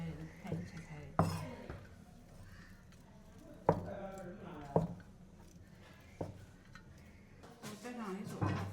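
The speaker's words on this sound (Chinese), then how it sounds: "看你切菜的" A knife chops vegetables in a rural northern Chinese village kitchen preparing a wedding banquet, giving sparse, irregular sharp knocks on a board amid dish clatter and nearby chatter.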